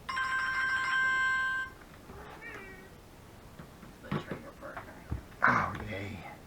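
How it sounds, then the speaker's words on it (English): A telephone rings steadily in a room for nearly two seconds and then stops, followed by a cat meowing and scattered household noises. "I'm so sick of that phone."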